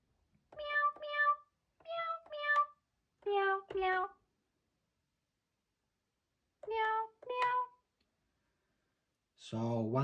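A toy cat piano plays a simple tune of short synthetic meow notes, in pairs and groups separated by brief silences, clear and close with no talking.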